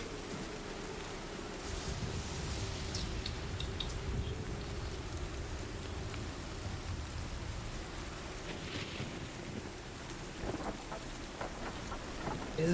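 Steady rain and low rolling thunder of a stormy night form a continuous, even wash of ambience, with a few brief louder crackles near the end and no voices.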